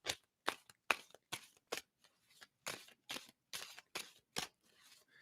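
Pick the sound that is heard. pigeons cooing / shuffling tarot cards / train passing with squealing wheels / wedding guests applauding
shuffling tarot cards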